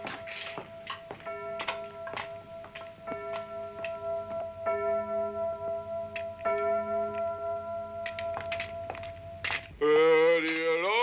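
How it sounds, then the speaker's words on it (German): A large bell strikes the evening hour in an old German town, sounding a slow series of resonant, ringing strokes that overlap and fade, with faint clock-like ticking and a brief voice at the very end. "die Glocke hat eben guten Abend geschlagen."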